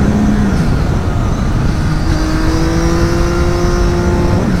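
A Triumph Daytona 675 triple motorcycle with an Arrow exhaust runs loud and close, engine note climbing steadily as it revs and pulls through a gear change, with no voices over it.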